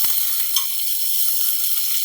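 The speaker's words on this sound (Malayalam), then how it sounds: "ഇതിലേക്ക് ഇതേ ഉള്ളിയിട്ട്, ഉള്ളി ഒരുപാട് മൂക്കൊന്നും വേണ്ട" Onions fry in a pan for a spiced brinjal curry, producing a loud, continuous close-up sizzle and hiss with a few soft stirring clicks at the start.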